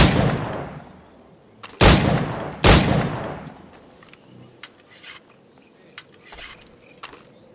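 Pistol shots in Assassin's Creed 4 Black Flag: two loud, close, sharp cracks about a second apart, each with a decaying echo tail, followed by scattered fainter clicks and pops.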